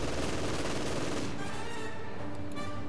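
Gunfire in the World War II strategy game Company of Heroes 2, winter mission, a dense burst of rifle and machine-gun fire up front that thins into scattered distant shots over a low battlefield rumble.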